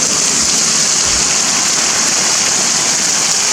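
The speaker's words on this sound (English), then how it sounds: "Want to see those heavy rains I was telling you about?" Loud, dense rush of heavy rain pouring steadily, a constant hiss with a faint low rumble underneath and no voices.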